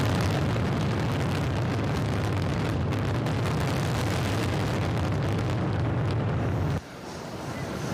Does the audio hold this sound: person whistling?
no